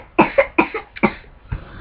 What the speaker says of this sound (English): I got a sick kid at home with me today, so that's why there's all the coughing in the background.